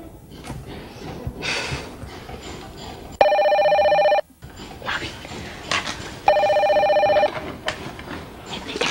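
A telephone rings in two long electronic bursts about three seconds apart, loud and clear against a murmuring room background between them.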